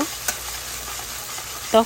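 Moong dal and whole cumin seeds fry in a pan with a steady, soft sizzle and light stirring, punctuated by a brief scrape near the start and another near the end.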